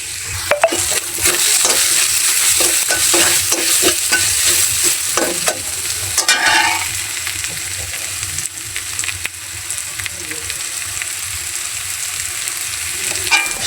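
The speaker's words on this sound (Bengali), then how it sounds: "প্রথমে আমি সেই জন্য এই যে সব কিছু কষিয়ে নিচ্ছি। ধনিয়া গুঁড়ো একটু দিয়ে নিলাম।" Spices with coriander powder sizzle and fry in a pan as they are stirred for a spiced shing fish dish, with steady crackling, repeated scraping strokes of the stirring utensil, and a continuous hiss throughout.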